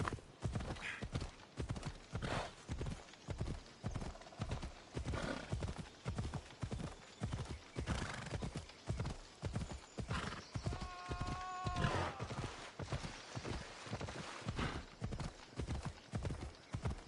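Rhythmic hoofbeats of a galloping horse in the video game Assassin's Creed Odyssey, a steady, driving clip-clop throughout with a brief whinny near the middle, close and prominent.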